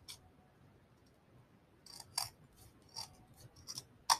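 Scissors snip through mesh ribbon, cutting from the fold outward, in a handful of short, crisp cuts, close and fairly quiet, with brief pauses between.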